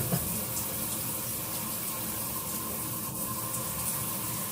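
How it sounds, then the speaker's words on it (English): Tap running steadily as hands are washed under it, a loud, even gush of water splashing into a sink, close and continuous, no speech. "Now, let me wash my hands real quick"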